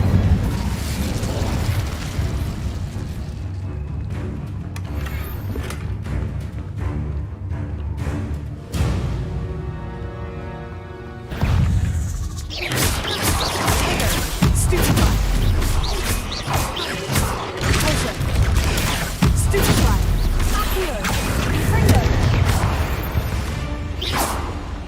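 Fire-spell blasts, whooshes and crackling bursts during combat in Hogwarts Legacy, dense and loud, with a brief lull midway before another surge of explosive magical effects.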